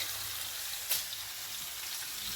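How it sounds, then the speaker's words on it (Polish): Pork ribs in a honey marinade sizzle and crackle steadily in a hot pan, a soft hissing fry with one brief louder pop. "Możecie tylko usłyszeć dźwięk, jak pięknie się smażą."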